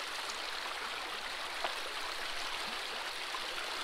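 Water runs through a gold prospecting sluice on the Kern River, carrying clay and black sand, as a steady, close rushing wash with faint trickling detail throughout.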